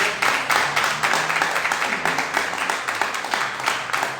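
Continuous applause from a church congregation, dense rapid clapping filling a reverberant room at steady volume with no voices breaking through.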